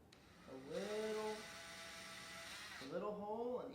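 A small drill bit bores a hole in a walnut hardwood plaque, a high whining drill spinning up, holding for about two seconds and winding down, then starting again, quiet and close.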